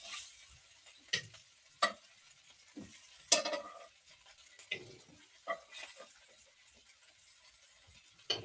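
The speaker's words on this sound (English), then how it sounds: "put these mushrooms in here and just let them cook down a bit" Mushrooms, peppers and onions sizzle softly in a pan on a grill, broken by several sharp scrapes and clanks of a spatula stirring them at irregular intervals.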